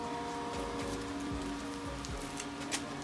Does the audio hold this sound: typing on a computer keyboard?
no